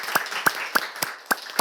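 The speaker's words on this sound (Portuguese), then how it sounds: "vou pedir uma salva de palmas para a Ana Luísa Leão," Sparse, evenly spaced single claps, six distinct sharp strikes roughly a third of a second apart, close and moderately loud, giving a small round of applause for a percussionist at a spirituality gathering.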